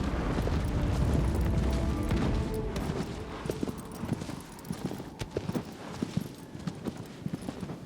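Horse hooves clip-clopping at a gallop in Shadow of the Colossus, a dense rumbling run at first that thins into separate, steady hoof strikes, fairly loud with no talk.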